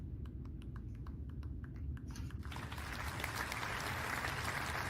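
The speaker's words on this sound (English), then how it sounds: "Please welcome her with a big round of applause." At a symposium, an audience welcomes a speaker with applause. A few scattered claps come first, then it swells into fuller, steady clapping that continues to the end at moderate volume.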